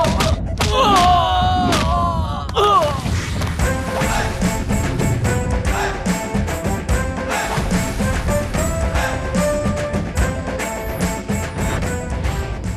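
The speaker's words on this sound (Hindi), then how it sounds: "और असली पंच इसके हैं। लकी।" Heavy punches land in a fight scene from a Hindi-dubbed South Indian action movie: loud, dense thuds and crashes under a continuous blaring music score, with a brief vocal outburst near the start.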